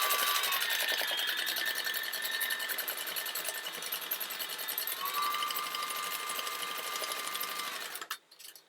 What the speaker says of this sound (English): you're going to, at a 1/4 inch seam allowance, is going to sew those two together